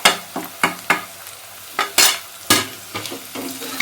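Vegetables stirred in a pan with salt, kitchen king masala, red chilli, turmeric and coriander powders, loud repeated scraping strokes of a spoon over a light sizzle, about eight stirs in a few seconds, no voices.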